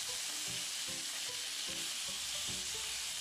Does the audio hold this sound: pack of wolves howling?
no